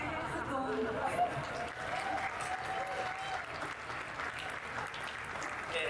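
Audience at the Festival Mário de Andrade literary festival applauds with steady, moderately quiet clapping that lasts the full few seconds, with some talking mixed in.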